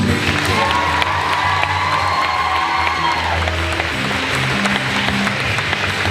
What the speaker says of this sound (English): So just give a round of applause to everyone who makes it happen.